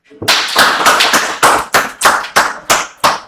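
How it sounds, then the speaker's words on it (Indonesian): Students clapping hands together in a classroom at a vocational school photography lesson: loud, close, distinct claps in a steady rhythm, about ten sharp strikes with brief gaps between them. "Oke, tepuk tangan."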